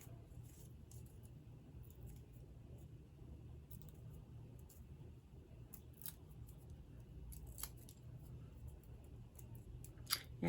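Scissors snip through card stock in short, quiet cuts while a greeting card is made, the snips scattered irregularly over a low background hum.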